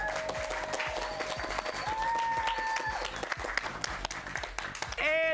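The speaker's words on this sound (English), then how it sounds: "Let's give a big hand to your coach" An audience applauds the coach at a quiz bowl match, a steady, continuous patter of clapping with tonal sounds and brief voices mixed in.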